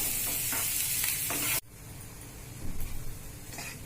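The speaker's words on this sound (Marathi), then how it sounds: "लाल होईपर्यंत थोडंसं परतून घेऊया, आणि परतून थोडंसं मीठ टाकून किंचित, म्हणजे कांदा मऊसूत होईल" Onion sautéing with a pinch of salt in a pan, a loud hiss for a second and a half that cuts off sharply, then softer sizzling and scraping stirs close by.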